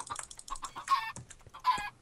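Chickens in the video game Minecraft cluck in short, choppy bursts, several quick clucks in a row with two louder squawk-like calls, close and clear with no talk over them.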